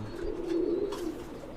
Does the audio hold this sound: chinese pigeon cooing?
yes